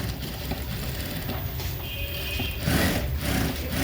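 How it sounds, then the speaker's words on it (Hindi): A sewing machine runs basting stitches, long temporary tacking stitches, through blouse fabric for a prince-cut blouse. It keeps up a steady mechanical whirr with ratcheting clicks throughout, getting a little louder near the end, with no voices. "ये भी कच्ची सिलाई मारनी चालू कर दी उन्होंने"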